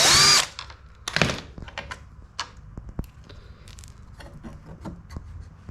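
A power drill works on the screws of a Land Rover Discovery 3 headlight bracket: one loud, close whirring burst at the start, then scattered light clicks and rattles of the screws and bracket.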